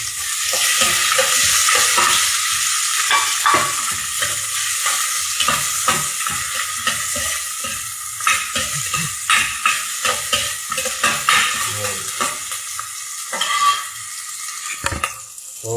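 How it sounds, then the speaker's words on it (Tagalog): Garlic and white onion are sautéed in a hot pan with a steady oily sizzle, broken by repeated close scraping and stirring strokes of a utensil against the pan that come more often toward the end. "Pag namumula-mula ng ating bawang, pwede natin isunod ang sibuyas na puti."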